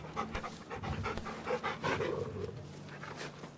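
Torgal, the wolf-dog companion in Final Fantasy XVI, pants in quick, steady breaths up close, with rustling game sounds underneath and no talking.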